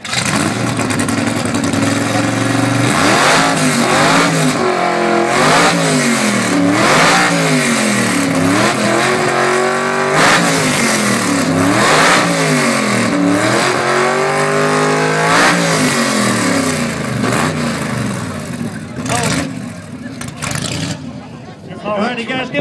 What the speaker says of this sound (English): All right, we're going to fire them up one at a time. They're going to rev it up.